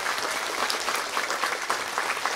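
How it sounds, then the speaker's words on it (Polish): Concert audience applauding steadily after a carol performance, a dense, even wash of many hands clapping for a couple of seconds with no speech over it. "Wielkie brawa, dziękujemy, że przyszliście."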